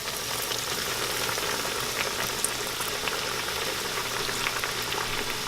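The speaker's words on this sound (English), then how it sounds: "If it's bubbling like that, go ahead and drop the chicken in." Chicken dropped into a pan of hot oil for chicken parmesan fries with a steady, dense sizzle and bubbling crackle that holds at an even level throughout, with no voices.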